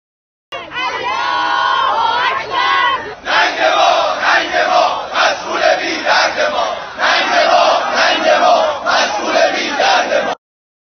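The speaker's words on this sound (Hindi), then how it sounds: "इन वीडियो फुटेजेस में लोग नारे लगा रहे हैं" Protesters in Iran chant slogans outside a university, a large crowd shouting together in loud, rhythmic bursts that carry on continuously with brief dips between phrases.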